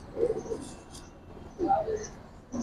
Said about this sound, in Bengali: এই যে হলো মাদি কবুতরটা